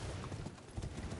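A brief, faint patter of horse hooves clip-clopping in the video game Elden Ring, a quick run of muffled footfalls lasting only a moment.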